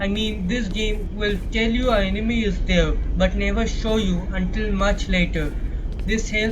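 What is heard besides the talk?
No everyday noises stand out.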